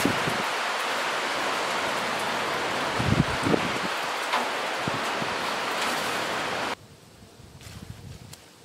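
Rain from a passing storm falls on a farmhouse, a steady broadband hiss with a few louder knocks that suddenly cuts down to a quieter patter near the end.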